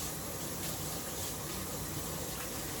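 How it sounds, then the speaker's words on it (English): Tap water runs in a continuous wash while hands are rinsed under the faucet during barbecue cooking. The sound is a moderate, even rush with no talking over it. "I'm gonna wash my hands"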